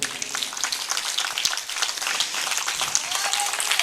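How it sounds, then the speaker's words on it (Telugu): A congregation at a Christian gospel meeting breaks into sustained applause, dense and steady from start to end, with many hands clapping together in a loud, continuous wash and no voice rising above it. "ఒకసారి మా సంఘానికి చప్పట్లు కొడదామండి"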